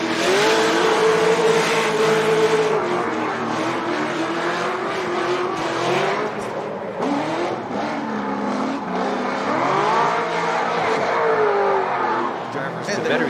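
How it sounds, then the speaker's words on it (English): Two LS-powered drift cars at a Formula Drift round at Englishtown Raceway Park, engines revving hard and continuously with rising and falling pitch, loud and close, under steady commentator talk. "two LS-powered machines as Reeder goes in that outside zone 1"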